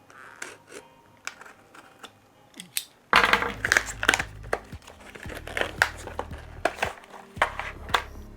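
Tight tape being cut and pulled off a small earbud product box, with crinkling, scraping and sharp ripping close by, growing louder partway through as the cardboard is worked open.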